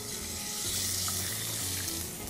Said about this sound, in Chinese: 开火，倒油，我们先炒